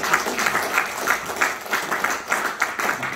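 A church congregation at a Sunday worship service applauds warmly, a steady crowd of claps with a gently pulsing rhythm, moderately loud and unbroken, with little talk over it.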